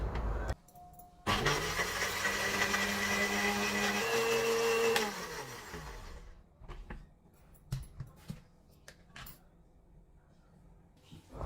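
A blender whirring soaked cashews with yogurt, starting abruptly and running loud and steady for about four seconds, rising in pitch partway, then winding down, followed by quiet clatter and handling noises.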